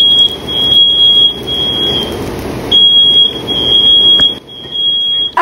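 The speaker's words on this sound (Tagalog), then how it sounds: "yung smoke detector namin dito sa bahay, ayun, nag-alarm" A home smoke detector shrieks with a piercing, steady high-pitched alarm tone that cuts in and out in long stretches, very loud and close, set off while pork belly cooks in a kitchen.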